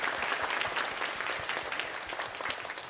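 A church congregation claps in welcome for guests seated at the back during a Sunday praise service, a moderate, even round of applause with individual claps audible throughout.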